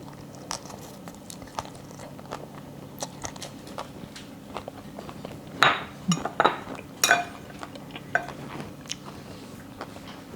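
Crunchy bites into crispy cake noodles with chicken and vegetables, with a cluster of louder crunches and chewing sounds mid-clip among faint clinks of cutlery against a plate.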